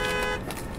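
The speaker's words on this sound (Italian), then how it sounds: "Ma dai, il clacson." A car horn sounds in the video game Cyberpunk 2077, a loud sustained tone for under half a second that cuts off into game background noise.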